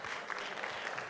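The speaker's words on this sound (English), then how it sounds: "Pastor Ine, a round of applause for her, please." Audience applause at a church meeting, a brief, faint burst of clapping heard alone.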